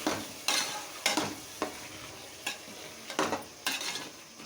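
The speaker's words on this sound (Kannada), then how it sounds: "ಈ ಮಸಾಲಾನ ಚೆನ್ನಾಗಿ ಮಿಕ್ಸ್ ಮಾಡಿ ಅದು ಹಸಿ ಸ್ಮೆಲ್ ಹೋಗೋ ತನಕ ಚೆನ್ನಾಗಿ ಫ್ರೈ ಮಾಡಿ" Ground masala for vangibath being stirred and fried in a pan, with a spoon scraping in regular strokes about every half second over a soft, steady sizzle, close and moderately loud with no talking.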